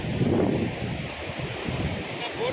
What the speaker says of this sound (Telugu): ఇక అలలు వస్తున్నాయి చూడండి